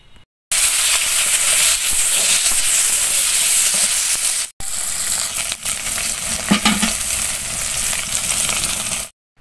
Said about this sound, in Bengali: এবার তেলটা গরম হয়ে গেছে, মাছ 2 পিস আমি তেলে ছেড়ে দিচ্ছি।